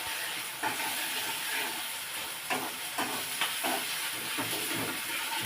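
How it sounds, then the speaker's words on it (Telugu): Curry ingredients, including ginger garlic paste and ground coconut for a kandankailu curry, fry lightly in a pan with a continuous soft sizzle broken by several brief scraping stirs. "కలర్లో వచ్చేంత వరకు కొంచెం లైట్గా ఫ్రై చేసుకొని దాని తర్వాత పీసెస్ దాంట్లో వేసేసాం."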